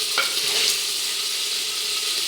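Green chili, garlic cloves and tomato sizzle in hot oil, a close, even frying hiss with a couple of quick stirring clinks near the start, nothing else heard.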